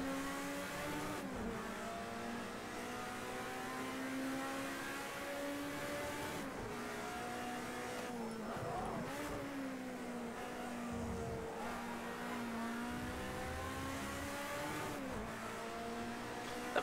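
A race car's engine in a racing video game revs hard and steadily, pitch climbing and dropping through several gear shifts, with tire noise beneath and another car briefly close by.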